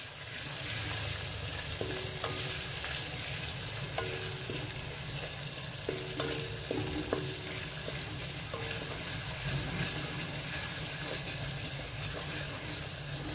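Sliced onions fry in a pan over a steady, close sizzle while a utensil stirs them, giving occasional light clinks and scrapes against the metal.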